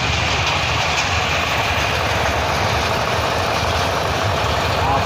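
Small fairground ride train rolling along its track at a Mahashivratri fair in a Chhattisgarh village, a steady rumbling clatter of wheels and engine held up close for the whole stretch amid dense crowd noise.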